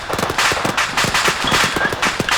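Rapid, loud gunfire in the ArmA 3 video game rattles in dense automatic bursts, close by and nearly unbroken for a couple of seconds.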